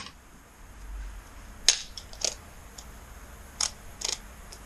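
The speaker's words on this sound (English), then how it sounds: "we're going to torque that one down. 32 foot-pounds of torque. So let's get the torque wrench out." A torque wrench clicks sharply several times, in uneven pairs, while tightening an engine mounting bolt to 32 foot-pounds on a 2009 Kawasaki ZX-10R in a quiet workshop.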